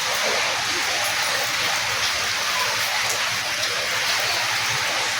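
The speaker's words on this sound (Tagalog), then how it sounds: "Bang lakas ng ulan." Heavy rain pouring steadily, a dense, unbroken hiss of water close by that fills the whole stretch, with faint voices underneath.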